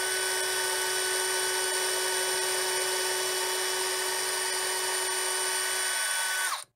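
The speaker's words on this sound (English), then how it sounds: "I'll drill the other one basically straight across from it behind the rear rail." A power drill bores a feeder hole through model railroad sub-roadbed, a loud, steady high-pitched whine with even tonal overtones that runs continuously before cutting off abruptly at the end.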